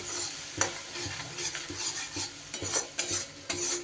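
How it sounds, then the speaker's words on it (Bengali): Spice paste with taro, potato and ground lentil frying in a pan makes a low sizzle, broken by repeated scraping strokes of a spoon against the pan in an uneven rhythm. "এবার খুব ভালো করে সব কিছু কষিয়ে নেব"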